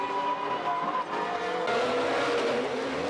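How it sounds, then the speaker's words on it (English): A Ferrari V12 Formula One car from the 1995 Argentine Grand Prix screams past at a racing circuit, its high-pitched engine note loud and sustained, with a slight pitch shift as it passes and no talk over it. "Berger exiting in that Ferrari, the last Ferrari to carry the V12 engine."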